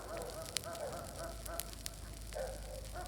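A village campfire burns at night with soft, scattered crackles and pops over a low steady background, heard fairly faint and from a short distance.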